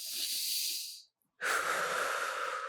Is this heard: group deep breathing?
yes